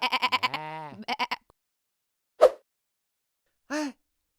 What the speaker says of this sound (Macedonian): Овца и овен.